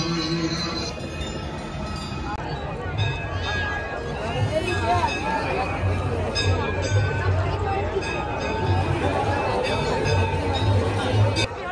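Dense crowd of devotees thronging Manikarnika Ghat in Banaras during Holi, a constant roar of chatter and shouting with music and drumming mixed in, loud and unbroken throughout.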